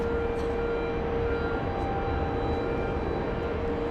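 A Virgin Atlantic A350-1000 airliner at JFK airport produces a steady, loud broadband jet-engine roar with a constant tonal whine, unbroken throughout.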